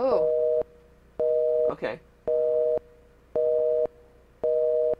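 Telephone busy tone from the video game Sara is Missing, sounding as a steady repeating series of evenly spaced beeps, about five in a row, with a brief spoken word between them.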